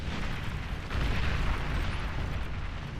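An artillery barrage in a strategy video game gives a dense, rumbling wash of explosions that swells after the first second and rolls on continuously at a moderate level.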